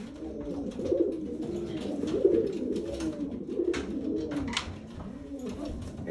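Racing pigeons cooing in a breeder loft, several overlapping soft throaty coos repeating in uneven bursts, fairly close and alone without talk.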